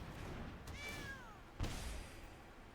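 A single cat meow sound effect in the digital card game MTG Arena, a clear falling cry near the middle, followed by a soft thud over a steady low game background.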